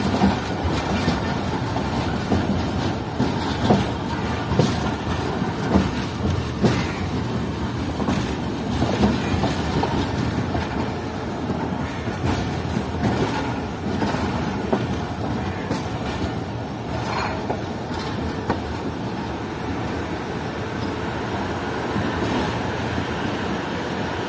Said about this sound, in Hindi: हमारी ट्रेन एंटर हो रही है सक्कर रेलवे स्टेशन के प्लेटफॉर्म नंबर 1 पर।